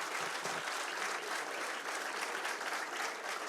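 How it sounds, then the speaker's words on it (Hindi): An audience at a ministerial event claps for the minister, a dense, steady round of applause that holds at an even level throughout without letting up. "आप सभी माननीय मंत्री महोदय के लिए करें करतल ध्वनि, तालियों की बौछार"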